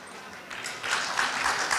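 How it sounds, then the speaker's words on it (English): A conference audience applauds a panel guest at a circular-economy forum. The soft, scattered clapping swells after a quiet start and holds at a moderate level. "And I would ask you for applause, please."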